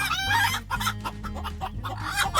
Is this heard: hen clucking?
yes